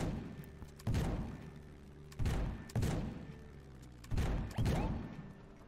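Gunfire from a skyship in the skypunk game Black Skylands: several heavy booming shots, some in quick pairs, each followed by a rumbling decay over a low engine drone.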